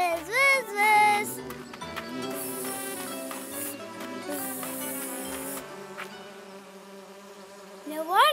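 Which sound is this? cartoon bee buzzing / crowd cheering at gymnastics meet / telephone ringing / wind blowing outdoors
cartoon bee buzzing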